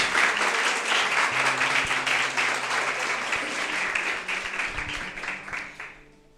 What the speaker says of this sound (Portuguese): Convido você a aplaudir a palavra de Deus.